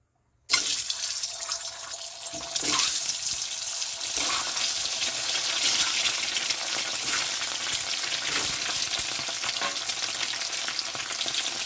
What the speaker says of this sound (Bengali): তেল গরম হয়ে গেছে, দিয়ে দেবো ডিম।